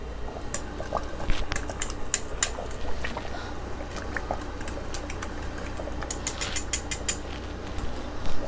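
A whisk stirring roux into simmering curry oxtail liquid in a multi-cooker pot gives steady close bubbling and liquid sloshing, with light metallic ticks from the whisk against the pot throughout.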